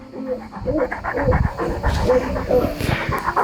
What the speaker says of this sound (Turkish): Çok güzel bir köpek.